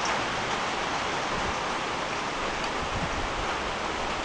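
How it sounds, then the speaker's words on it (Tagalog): Steady outdoor rainfall makes a continuous, even hiss at moderate loudness that holds unchanged from start to finish, with no voices over it. "pag medyo tumila na yung ulan"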